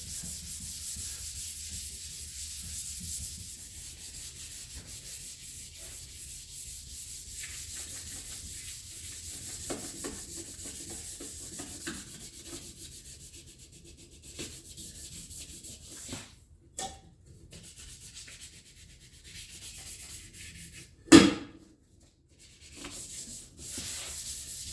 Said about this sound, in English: So back to hand sanding.